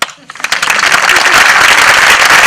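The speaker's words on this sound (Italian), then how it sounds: "Applauso." Loud, dense applause breaks out and swells quickly into sustained clapping from a large crowd.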